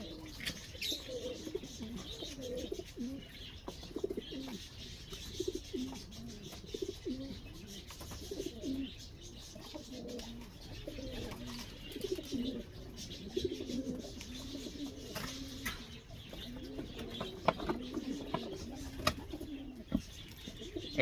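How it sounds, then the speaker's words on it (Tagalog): Racing pigeons kept by breeders coo and chirp steadily at moderate distance, with a few wing flutters and shuffling noises, and no talk. "So ayan siya, napakalikot na ibon."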